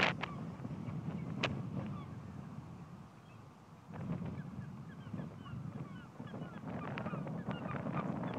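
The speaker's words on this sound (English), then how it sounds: "We'll try to be quiet so you can hear the seagulls." Seagulls call repeatedly in short honking cries over steady wind and lapping ambience at snowy Lake Erie, some calls nearer, others distant.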